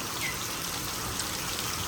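Rain falls steadily over a vegetable garden on a wet day, a continuous even hiss of drops with no voices and no break for the whole couple of seconds.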